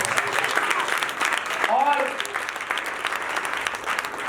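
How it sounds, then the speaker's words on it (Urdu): A church congregation claps loudly at a worship service, a continuous dense applause with a voice calling out over it partway through. "زوردار تالیاں بجائیں۔"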